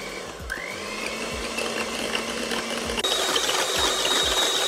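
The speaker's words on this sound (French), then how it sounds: "au batteur électrique, c'est un peu plus simple quand même" An electric hand mixer whips chilled chocolate cream, a steady, loud motorized whir that runs continuously throughout with no speech.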